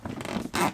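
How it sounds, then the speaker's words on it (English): A zipper is drawn shut along a VermiBag worm composting bag, one brief close rasping zip in two quick pulls, heard alone. "I got to take off my glove here so I can zip this back up."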